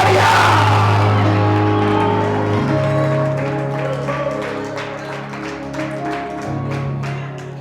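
A church congregation roars and shouts in praise during a worship service, a loud massed crowd bellow that starts strong and stays sustained, with whoops and yells rising over the top.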